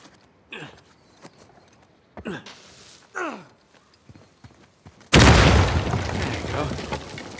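An explosion blasts a door open in the video game Uncharted 4, a sudden loud broadband roar that follows several sliding, swooshing effects and a few sparse thuds, with the blast sustained and heavy through to the end.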